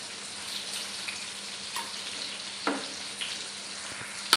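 Dried fish and taro leaf thoran cooking in a pan, a soft continuous sizzle with faint crackles and a few light clinks and scrapes of stirring, close and quiet, with no talking.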